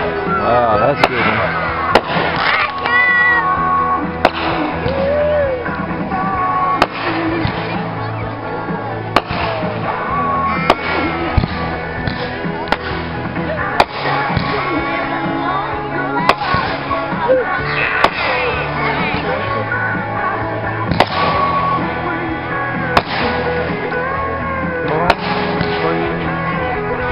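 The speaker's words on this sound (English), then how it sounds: "Those are pretty fireworks." July 4 lakeside fireworks burst in a steady series of sharp cracks and booms at irregular intervals, some close and loud, while people talk and react throughout.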